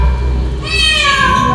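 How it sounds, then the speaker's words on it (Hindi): A tabby cat's meow rising clearly over a low background murmur, a single drawn-out call from close by that fades off at the end. "बिल्ली,"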